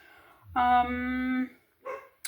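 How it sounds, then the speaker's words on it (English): A pet dog left outside gives one drawn-out bark that turns into a whining howl, fairly close and clear, then a short softer yelp follows. "That's my dog barking inconveniently, because I've put her outside so that she doesn't bark in the house."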